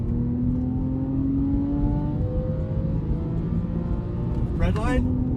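A 2006 Porsche 911 997 Carrera S accelerating hard on an open road, engine note rising steadily under a loud, constant road and wind roar, with a brief sharp shift or rev change near the end.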